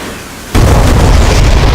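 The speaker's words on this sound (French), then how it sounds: "il a bombardé là, ça a marqué" GBU-12 bomb dropped from a Mirage 2000C striking a target in a flight combat video game, a single loud, sudden boom that cuts in after a quiet moment and rumbles on briefly.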